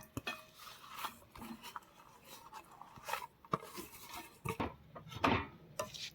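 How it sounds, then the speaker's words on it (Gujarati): Jaggery being stirred into a flour mixture for sukhadi, a Gujarati sweet, with close scraping and clinking of a spoon against the pan in irregular bursts, plus a few sharper knocks. "ગોળ એડ કરી અને આવી રીતે બધું સરસ મિક્સ કરી લઈએ।"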